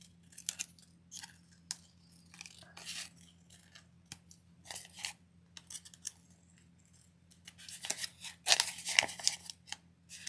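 Scissors snip through paper in a series of crisp, close cuts, scattered at first and then bunching into a rapid flurry near the end, with no talking.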